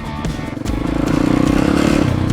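A YCF 190 pit bike rides along at a steady pace while still cold from starting, its single-cylinder engine thrumming loudly and close with a rapid even pulse that firms up as it gets going.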